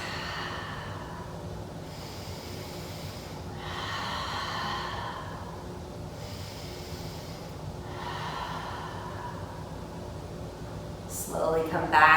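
Two slow, deep yoga breaths during a vinyasa flow class, each a long airy inhale and exhale swelling and fading in turn, close to the microphone, ending in a brief rustle.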